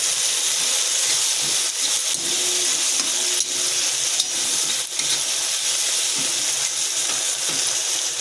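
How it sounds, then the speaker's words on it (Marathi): A spoon stirs chicken chilli with red chilli, soy and tomato sauces in a sizzling pan, loud steady frying hiss with scraping and clinks of the utensil against the metal. "आता हे सर्व ढवळून घ्यायचं व्यवस्थित"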